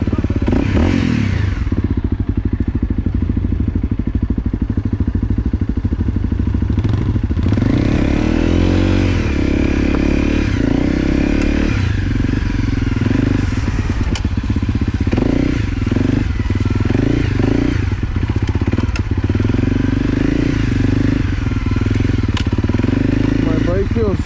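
A motorcycle rides through mud and snow, its engine a loud, close, continuous drone that rises and falls with throttle. Clatters and thumps come from the rough ground, and voices talk intermittently beneath the engine noise.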